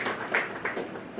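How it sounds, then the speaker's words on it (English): A press-conference audience breaks into clapping, a moderately loud burst of hand claps that swells twice with a few sharper accents. "Can we please clap for him?"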